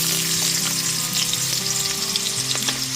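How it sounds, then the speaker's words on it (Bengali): Small diced potato pieces fry in hot oil and ghee with a steady, loud, dense sizzle and crackle that fills the whole moment, with no voices. "তেল আর ঘিটা খুব ভালো মতো গরম হয়ে গেলে পরে তারপরেতে দিয়ে দিচ্ছি একটা মিডিয়াম সাইজের একদম ছোট টুকরো করে কেটে রাখা আলু"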